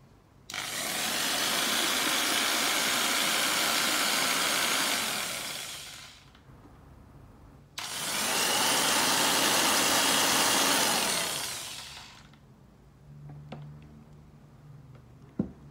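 Dexter Power electric jigsaw run twice in long bursts of several seconds each, a loud close motor whine starting and winding down, followed by a few faint handling clicks.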